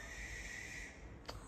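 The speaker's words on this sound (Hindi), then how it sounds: "और उल्लू की आवाज़ आप सुन रहे हो? आप सुनो उल्लू की आवाज़" An owl calls at night, a steady, drawn-out cry held for over a second, fairly close and loud over a low background hum, ending with a brief sharp click.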